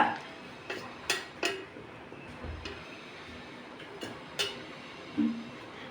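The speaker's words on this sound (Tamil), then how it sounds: "கரண்டி எடுத்து இப்படி கட்டி இல்லாமல் உடச்சி விட்டுங்க" A spoon knocks and scrapes against a vessel while breaking up lumps in steamed puttu flour, giving sharp, separate clinks every second or so over a steady background hiss.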